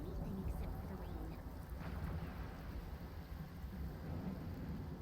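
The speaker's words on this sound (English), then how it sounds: "I can't hear anything except for the rain." Steady rain with a faint low thunder rumble in a video game, a continuous dense wash that stays loud and even throughout with no clear breaks.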